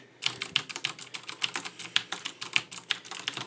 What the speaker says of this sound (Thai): เป็นคีย์บอร์ดแมคานิคอล อะไรวะบูสวิตนะครับ เสียงมันฟินมากเวลาเล่นกลางคืน